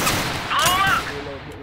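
Gunfire in Total Conflict: Resistance, heard as a brief, fairly loud stretch of rapid shots mixed with a voice in the battle.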